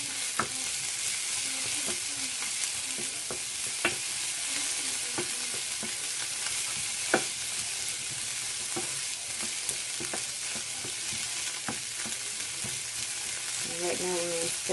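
Onions sizzle steadily in a pan while being stirred, with a continuous close frying hiss and scattered soft clicks and scrapes from the utensil.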